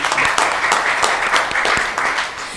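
A burst of applause at a retail summit awards event, many hands clapping together in a dense, steady patter from a crowd.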